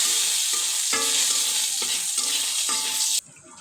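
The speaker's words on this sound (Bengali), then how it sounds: "তো আমি এখানে ফোড়নে একটু জিরে দিয়ে দিলাম, গোটা জিরে, আর 1 টুকরো দারচিনি" Whole cumin seeds and a piece of cinnamon sizzle loudly in hot oil for tempering, a dense, steady crackling hiss that drops away abruptly near the end.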